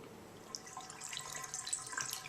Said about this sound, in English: And there's water flowing into the drain.